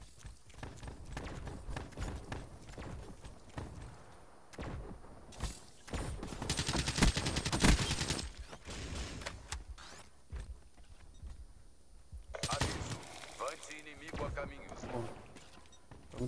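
Repeated 12-gauge shotgun blasts and bursts of gunfire in Call of Duty Black Ops multiplayer, loud broadband cracks clustered midway and again near the end, with players talking over the game audio.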